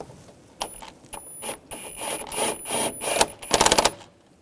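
Worm-gear hose clamp being snugged down on the throttle body of a 2013-2016 Dodge Dart, close-up: a run of quick ratcheting clicks and metallic scraping, building to a rapid burst of ticks near the end.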